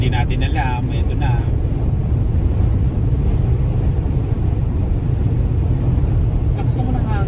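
Strong wind buffeting a vehicle on a winter highway in Saskatchewan, a loud constant low rumbling roar with road noise, while someone talks over it.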